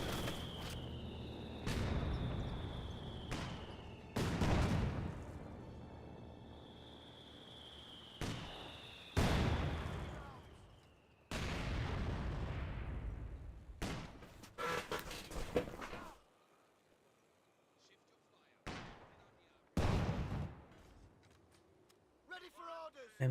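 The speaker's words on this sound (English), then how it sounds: "M42 firing away." Heavy gunfire from an M42 gun in a Company of Heroes 2 battle, with loud, broadband bursts at irregular intervals and quieter stretches between them. A commentator's voice runs underneath.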